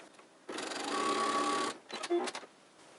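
A sewing machine runs steadily for over a second stitching across the folded end of a fabric mask, then a few short bursts of stitching follow, close and alone.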